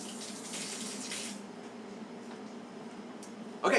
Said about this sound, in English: Let me wash my hands 1 second.